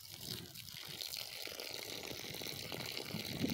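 Water poured into small planting holes in a garden bed: a steady, soft splashing and gurgling of liquid filling the soil, close by and fairly quiet, with no clear talking.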